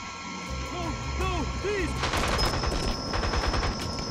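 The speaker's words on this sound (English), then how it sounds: "they're shooting everybody around here" Rapid bursts of gunfire in the video game 007 Blood Stone, repeated shots under game sound effects and a continuous electronic backdrop, with a person talking over it.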